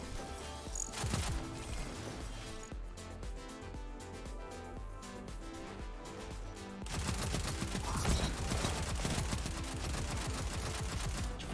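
Submachine gun fire in the Destiny 2 shooter with a Tarrabah-type weapon and 35-round magazine: dense, rapid automatic bursts run throughout, with a louder, fuller stretch of fire in the second half and no talk.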